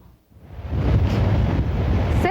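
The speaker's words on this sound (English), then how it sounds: "Ocean waters lapping a sandy shore." Ocean waves lapping a sandy shore at Cape May, New Jersey, a brief quiet moment swelling into a broad, steady wash of surf with wind rushing across the microphone.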